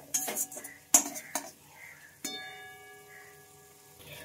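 A spoon scraping and knocking in a pan while spice masala and potatoes are stirred, a few sharp metallic clinks and scrapes early on, then a quieter faint sizzle with a soft ringing tone, close and without speech.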